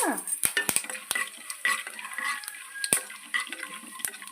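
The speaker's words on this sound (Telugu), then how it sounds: "చట్నీకి పోపు వేస్తున్నానండి ఆవాలు ఉద్దిపప్పు శనగపప్పు జీలకర్ర వేసి వేయించుకుందాము" Mustard seeds, urad dal, chana dal and cumin frying in oil for a chutney tempering, a soft sizzle punctuated by sharp metallic clinks and taps of a spoon against the pan, close and fairly quiet, no talking.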